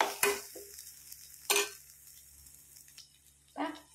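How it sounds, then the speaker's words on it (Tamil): Coriander rice is stirred in a pan, with three separate scraping clinks of a spoon against the metal and a faint sizzle between them, close and fairly quiet. "இது வந்து நல்லா கிளறி விட்டுக்கலாம்."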